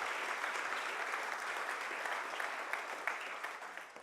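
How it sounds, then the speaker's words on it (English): At a talk on 3D construction printing, an audience claps for the speaker Henrik with steady, fairly quiet applause from many hands, sustained with a few sharper claps near the end. "Big round of applause"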